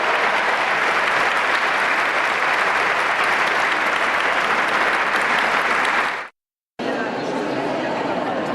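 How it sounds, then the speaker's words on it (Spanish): Sustained applause from a church congregation at a Catholic testimony event, loud and dense throughout, briefly cutting to silence before resuming just as strong. "El aplauso para el Señor."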